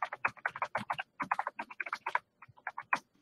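Rapid keystrokes on a computer keyboard while entering email addresses into video conference scheduling software, an uneven run of close, crisp clicks with a short pause near the end.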